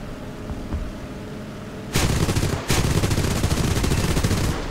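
Rapid bursts of machine-gun fire from a J2M2 Raiden fighter in a flight combat video game, two loud sustained volleys separated by a brief gap, heard over a steady engine drone.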